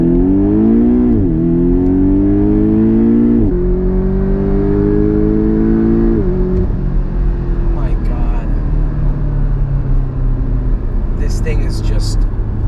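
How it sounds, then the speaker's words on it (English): A Porsche 718 Cayman GTS with a mid-mounted 2.5L engine revs hard through acceleration pulls, its rising engine tone dropping at each gear shift, loud and steady from inside the cabin. "So the engine's right behind you, so you hear it a lot more"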